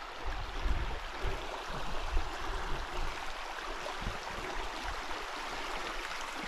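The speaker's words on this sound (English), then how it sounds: "Interesting little river." Small river flowing through overgrown countryside: a continuous close rush and babble of water, steady and fairly quiet, with some low rumbling wind-like bumps and no talking.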